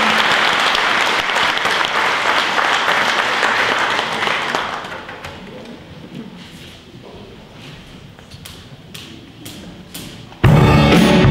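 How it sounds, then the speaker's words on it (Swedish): An audience at a Christmas concert gives loud, dense applause for a young singer, then the clapping fades to scattered claps and soft rustling before a sudden louder burst of sound at the end. "ge henne en stor applåd"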